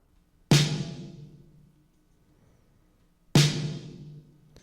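Two heavy snare hits a few seconds apart, each crunchy and distorted with a long reverb tail fading out.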